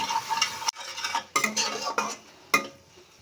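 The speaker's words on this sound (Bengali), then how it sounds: "মশলাটা খুব ভালো করে কষে নেব।" A spice masala of turmeric and Kashmiri chilli powder with a splash of water is stirred and fried in a pan, with scraping strokes and clinks over a crackling sizzle, loud and near.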